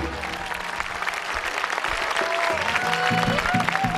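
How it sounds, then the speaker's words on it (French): Enthusiastic applause from the audience at the Miss Tahiti 2007 crowning ceremony, loud and continuous, with music playing along underneath. "On peut l'applaudir très fort"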